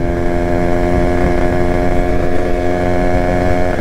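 A Yamaha RX two-stroke motorcycle engine runs steadily and loudly up close, its dense buzzing drone holding an even pitch throughout with no voices over it.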